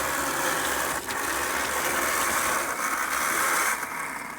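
An HO scale model locomotive runs along its track with a faint, steady mechanical whir and a light rattling texture, continuous with small dips.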